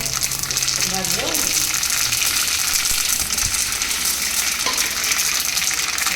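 Curry leaves, asafoetida and sesame seeds sizzle and crackle in hot oil, a loud steady hiss with scattered pops, close up throughout.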